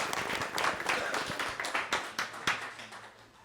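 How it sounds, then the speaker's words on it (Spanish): A gathering on territory conservation claps for itself, a brief round of distinct hand claps, fairly close and sharp at first, then thinning out and softening. "nada más quiero darnos un aplauso a todos por haber estado acá"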